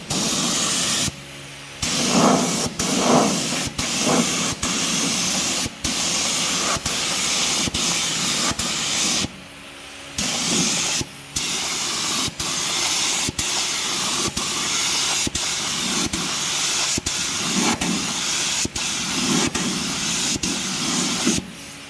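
A spray gun hisses almost continuously while applying Raptor liner coating to the tray of an F100 truck, broken by a few short pauses between passes, loud and close with no talk.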